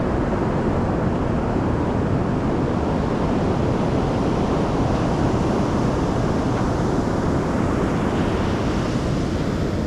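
Ocean waves wash onto a beach at sunset on a cold November evening, a loud, continuous roar of surf mixed with heavy wind buffeting the microphone, with no voices.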